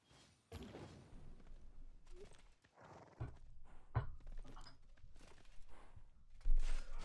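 Horse unit sounds from the winged hussar cavalry in Civilization 6 gameplay: scattered hoof thunks and clip-clops with a brief whinny, several sharp impacts over a low rumbling bed, no talk.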